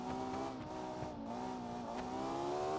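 A supercar on the Automation game's test track, its engine holding a steady, fairly loud note with rising harmonic whine, accompanied by faint tire noise throughout.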